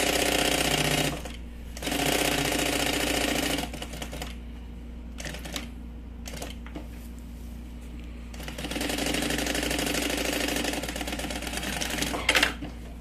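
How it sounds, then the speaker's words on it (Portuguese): A sewing machine topstitches along the edge of a bag's lining in bursts of rapid mechanical stitching, stopping and restarting several times, up close with no talking. "é só passar uma costurinha de pesponto do início até o final"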